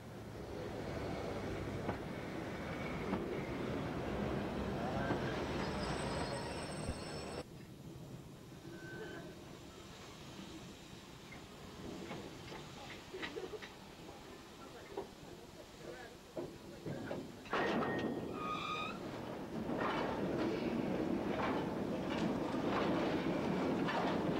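A Southern Railway steam-era train running on rails, a steady rumbling rush with rhythmic clatter that shifts in loudness as it passes, with brief whistle-like tones near the end, under a narrating voice.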